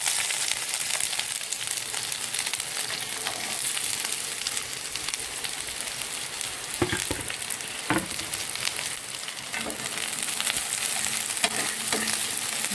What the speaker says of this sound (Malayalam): ആ എണ്ണ നല്ല ചൂടായി കഴിയുമ്പോൾ നല്ല ക്യൂബാക്കിയ ഒരു ചെറിയൊരു ക്യാപ്സിക്കം, ഒരു ചെറിയൊരു സവാള. ആദ്യം നമുക്ക് ഈ സവാളയും ക്യാപ്സിക്കവും കൂടെ അതിലേക്ക് ആക്കാം.